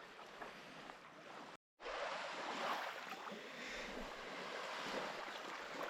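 Sea waves wash along the Gulf of Riga shore near Kolka, a faint continuous surf hiss mixed with wind rumble on the microphone, broken by a short gap.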